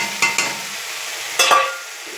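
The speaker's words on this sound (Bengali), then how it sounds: "কাঁচা লঙ্কা বাটা, আদা বাটা, পেঁয়াজ বাটা, একটু টমেটো দিয়ে দিয়েছি বাটাতে। এটা কষবে" A spice paste of ground green chilli, ginger, onion and a little tomato fries in a pan, with a low steady sizzle and two pairs of short scraping stirs near the start and end.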